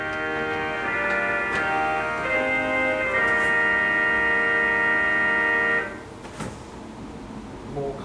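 A Wurlitzer cinema theatre organ plays its vox humana rank alone, without tremolant, in held reedy chords that change a few times before releasing into room reverberation, with no talk.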